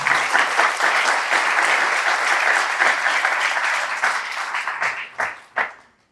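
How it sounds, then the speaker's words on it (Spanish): A crowd at a formal national gathering applauds Andrés Castro, a dense sustained round of clapping that thins out into a few scattered final claps before fading to quiet. "Yo pido que le demos un aplauso a Andrés"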